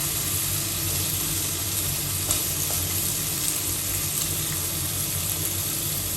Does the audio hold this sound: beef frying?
yes